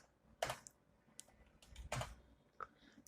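Computer keyboard presses in a pharmacy billing program on a PC: a few scattered soft clicks and taps, close but faint, with quiet pauses between keystrokes.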